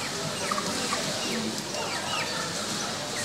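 Chickens cluck and squawk in a busy poultry market selling white broiler chickens in Mariouteya, with bird calls scattered over a dense, steady crowd din and background voices.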